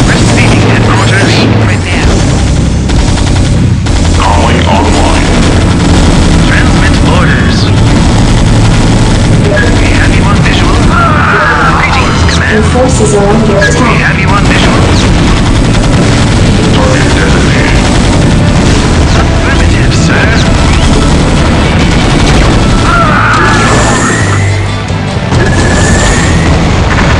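StarCraft 2 Terran battle, with dense, loud explosions, booms and gunfire layered over engine and aircraft drones, continuous and chaotic for the whole stretch, with game voice lines mixed in.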